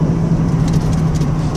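A 1996 Dodge Ram 3500 pickup with a 5.9-litre Cummins inline-six diesel drives along, its steady low engine drone and road noise continuous and fairly loud, with no talking.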